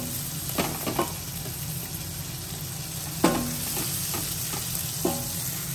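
Sweet corn frying in a pan with butter for hill-style Maggi sizzles softly and steadily, broken by several clicks and scrapes of a spatula stirring it.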